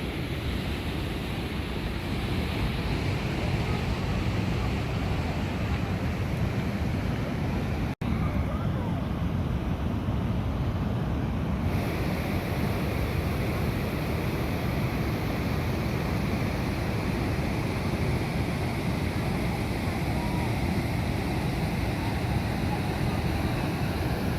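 Constant rushing roar of the Low Force waterfall nearby, steady and full, with a brief click partway through and no clear speech.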